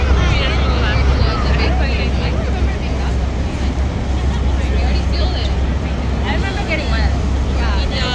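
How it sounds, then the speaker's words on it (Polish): A tour boat engine at Niagara Falls drones loudly and continuously with wind and water rush, while people talk over it. "Taką łódką właśnie śmigamy."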